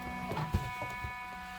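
A home embroidery machine stitches a tack-down line for a freestanding lace design, giving a faint, quiet mechanical whir with a few soft, irregular thumps.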